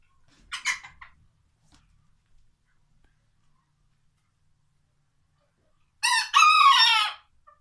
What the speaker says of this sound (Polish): Kurczak jak ładnie pieje.